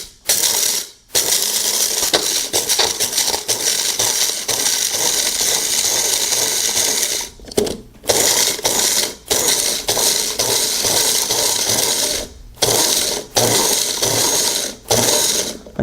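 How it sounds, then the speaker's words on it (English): A Magic Bullet blender grinds coffee beans in loud, harsh whirring bursts, its blades rattling the hard beans, pulsed on and off with short pauses between runs. "you can also grind up your coffee beans for nice fresh coffee"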